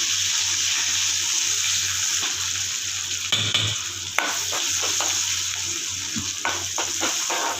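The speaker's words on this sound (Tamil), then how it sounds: "கடலைப்பருப்பு நல்லா பொரிஞ்சிருச்சு." Chana dal, mustard seeds and asafoetida fry in hot oil, with curry leaves and dried red chillies, giving a continuous close sizzle with occasional sharp pops and a low background hum.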